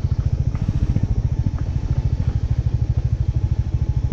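A motorcycle rides downhill on a rough off-road mountain track in Sikkim. Its engine thumps in a fast, even pulse close by, a low putter with faint rattles, and no one speaks.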